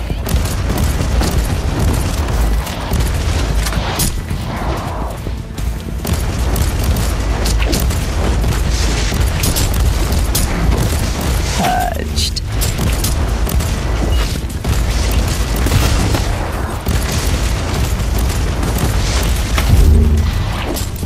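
Gunfire and explosions from Warhammer 40,000: Inquisitor - Martyr, a dense, loud barrage of booming blasts and rattling shots that continues almost without a break, with occasional voices mixed in.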